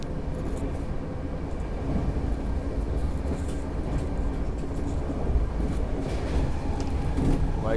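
From inside a first AC coach of the Sealdah Duronto express, another train, the Godda–Delhi, passes alongside. A deep, continuous rumble of rolling wheels and carriages fills the whole stretch at moderate level, with no speech.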